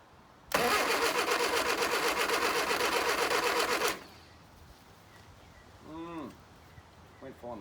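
A 1973 Leyland Moke engine bursts into life after cranking and runs loud and steady at a fast idle for about three seconds, then cuts off, leaving a quiet room with faint voices afterward.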